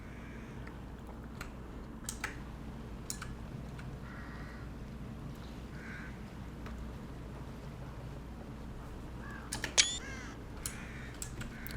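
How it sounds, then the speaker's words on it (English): Crows caw faintly and far off in the video game The Evil Within, with a few scattered calls over a quiet ambient backdrop. "I love crows."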